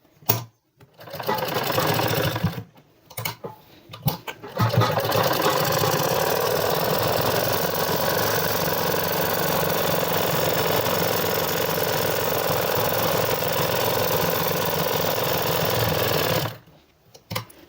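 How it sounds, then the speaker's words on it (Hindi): A sewing machine stitches trousers in one long, steady run of about twelve seconds after a few short starts, close and loud, then stops abruptly. "अब यहीं से इसको घुमाकर एक सिलाई और लगा लेते हैं।"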